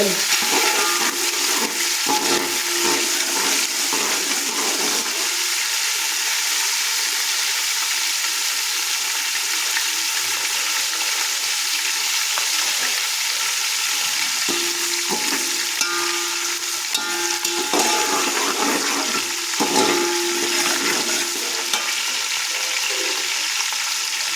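Chicken fat frying in a pan, a steady, loud bright sizzle that runs unbroken throughout with occasional soft stirring scrapes and no voices.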